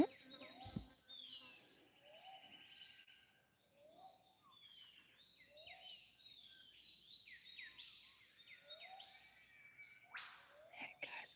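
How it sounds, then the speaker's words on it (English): A catbird calls outdoors in a mountain setting, with scattered short chirps and mewing phrases at moderate distance over faint ambient birdsong and insects, and a soft voice occasionally underneath. "That's a catbird."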